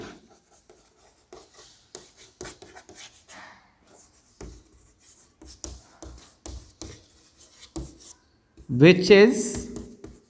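Chalk or marker scratches across a classroom board in short bursts between a teacher's speech during a heat lesson, with a louder, sustained writing stroke near the end.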